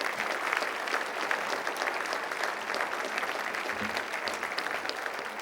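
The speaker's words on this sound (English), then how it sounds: "Come on, let's give them a round of applause." A crowd at a Hawthorne State of the City event applauds city commissioners, steady even clapping from a room of people heard at moderate distance throughout.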